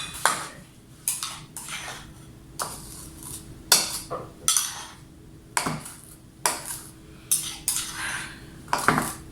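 Batter for Halloween cookies is mixed by hand in a bowl with flour and baking powder, making repeated clinks and scrapes of a utensil against the bowl in irregular bursts, close and moderately quiet.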